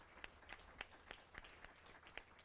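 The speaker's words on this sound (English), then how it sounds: "a round of applause." Small audience applauding young professionals at a mentor program presentation, sparse, distinct handclaps at a steady rhythm, faint and somewhat distant.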